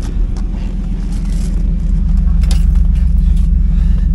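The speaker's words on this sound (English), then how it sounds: "LT1, like I said, running great." An LT1 V8 in a 1996 Pontiac Firebird Trans Am idles steadily and loud up close, a deep even rumble with no talk over it.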